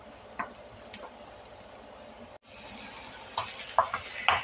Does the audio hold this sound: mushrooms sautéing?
yes